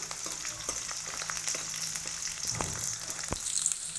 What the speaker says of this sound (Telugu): బ్రౌన్ కలర్ వచ్చేదాకా ఎంపుకోవాలి కదా